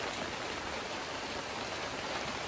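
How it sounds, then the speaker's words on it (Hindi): Steady rain falls outside as a dense, even hiss, constant and fairly close throughout, with no voices. "बारिश हो रहा है बाहर"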